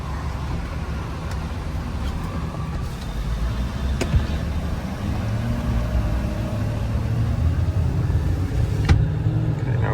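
A Ford F550 4x4 bucket truck with a 6.7 Powerstroke turbo diesel accelerates, giving a steady, rumbling engine drone heard from inside that builds gradually. Occasional faint clicks and rattles sound over it.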